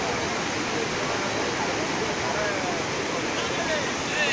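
Courtallam main falls pours at night in Tamil Nadu, a steady, dense roar of falling water filling the whole scene at constant loudness, with no break in the rush.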